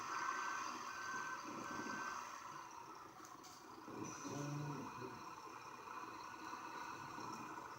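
A Merlo Turbo Farmer telehandler with a bale fork in a farming video game, a steady repeating reversing beep over a continuous engine hum with a low rumble rising midway, moderately loud, with no talk.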